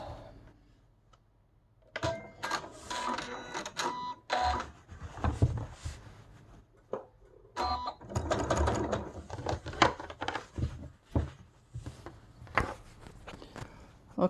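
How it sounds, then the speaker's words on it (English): A sewing machine top stitches a fabric face mask in bursts of rapid mechanical whirring, starting and stopping several times with short pauses between runs, close and fairly loud with no speech. "now I'm going to top stitch this"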